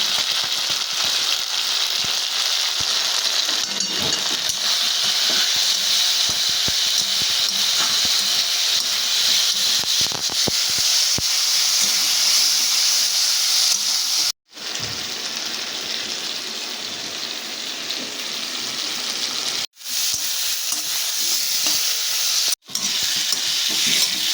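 Potatoes, onions and spices fry steadily in a pan with a loud, continuous hiss and sizzle, broken by a few brief stirring pauses, and no one speaks.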